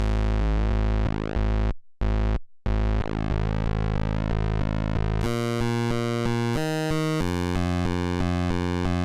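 Korg ARP 2600 synthesizer modulated by the square wave from oscillator 1, giving a loud, buzzy, distorted tone that sweeps and warbles, breaks off briefly, then jumps to a harsher stepped texture, with no talking.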